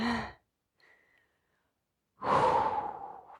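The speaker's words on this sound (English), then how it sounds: "We breathe." Slow, audible yoga breaths during a flow sequence: a long exhale, a pause with a faint sound, then a deep, drawn-out breath, close and alone.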